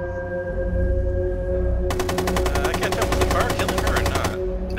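Rapid light machine gun fire in Rainbow Six Siege, a dense unbroken burst of shots lasting about two and a half seconds over low game ambience.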